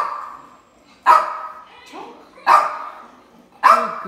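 Cane Corso dog barking on command indoors, three loud close barks spaced about a second apart with quieter whining sounds between them.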